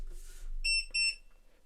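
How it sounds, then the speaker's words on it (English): A Twomikio solder fume extractor switched on gives two short, bright electronic beeps in quick succession, loud and close in an otherwise quiet room. "You get a green light, and it does beep twice."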